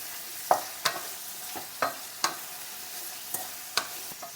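Two chopped tomatoes frying in a pan for a clam-meat fry, stirred with a utensil: about a dozen sharp scraping knocks come in a loose rhythm over a quiet, low sizzle, with no talking.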